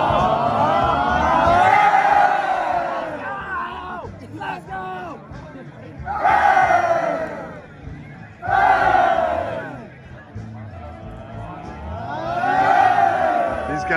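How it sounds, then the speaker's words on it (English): Aptos football players cheer loudly for runners at a roadside water station, several rising group whoops and shouts in repeated swells, close and energetic with chatter between bursts. "she's about to get cheered."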